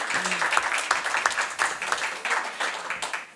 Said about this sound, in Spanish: el primer aplauso me gustaría que fuera para Enrique